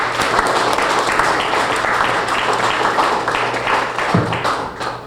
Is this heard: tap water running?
no